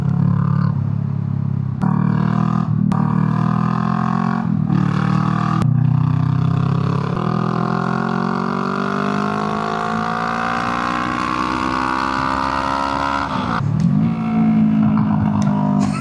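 Honda Rebel motorcycle engine revving close by, a steady loud drone whose pitch climbs slowly through a long rev, with a few sharp clicks early on and a dip and recovery near the end.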